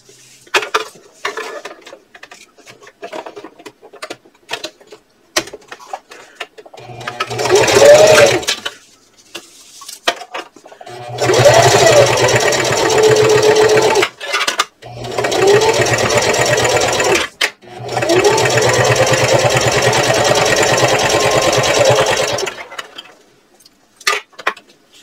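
A sewing machine runs in long, steady bursts while stitching a 1/8 inch seam around a purse, loud and close, with short pauses and clicks of repositioning between runs.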